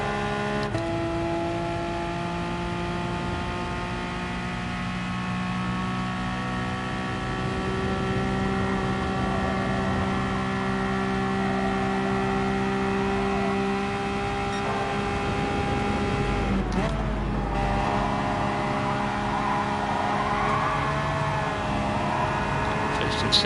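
A LaFerrari racing engine in a PS4 racing game holds a steady, loud droning whine with layered harmonic tones. It sustains throughout, shifting pitch briefly near the end.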